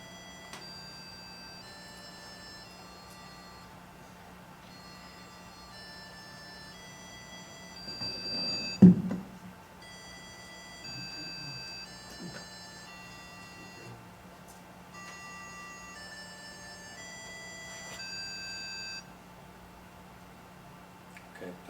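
Big Ben chime tones play as an hourly alarm from a small handheld calculator clock, a series of faint, thin electronic melodic phrases repeating in groups over a steady low hum, with a brief clunk partway through.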